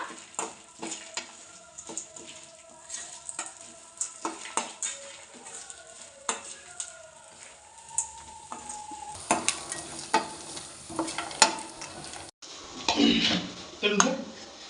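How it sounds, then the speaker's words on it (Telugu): A utensil stirs and scrapes roasted gram into a chutney mixture in a pan with repeated clinks and sizzling, getting busier toward the end; no voices over it. "ఇలాగా బాగా మిక్స్ చేసుకోవాలన్నమాట"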